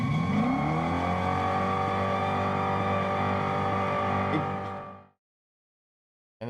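A synthetic exterior idle sound from a Dodge Charger EV plays as a steady, loud engine-like hum with layered tones, holding for about five seconds before cutting off abruptly into silence.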